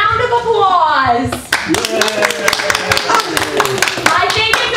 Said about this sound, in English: And suitor number three, by round of applause.